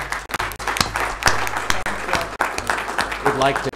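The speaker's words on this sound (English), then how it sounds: "if you'll join me one more time for a round of applause." Applause at a Weber County Commission meeting, a moderate round of clapping from attendees in a meeting room, mixed with talking voices and a low steady hum throughout.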